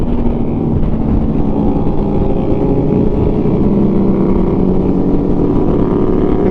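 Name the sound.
motorcycles riding on a road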